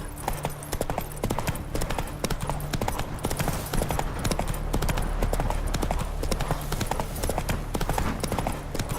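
Fast, continuous hoofbeats of a galloping horse in The Witcher 3 pound in close rhythm, loud and busy throughout with game ambience beneath.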